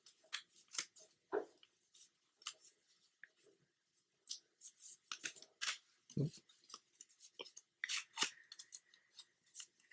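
Origami paper being folded and unfolded for an origami Mosin Nagant M91/30 rifle model, with close, irregular crinkles and sharp rustles separated by short pauses, under occasional quiet speech.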